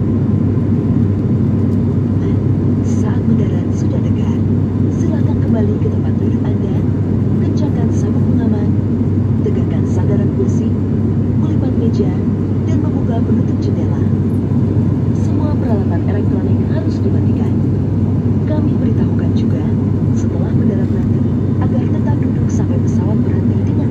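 Passenger aircraft landing and taxiing, heard from inside the cabin as a constant low engine rumble and whir, with scattered faint clicks and knocks above it.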